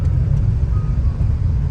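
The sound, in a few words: car engine while overtaking on a road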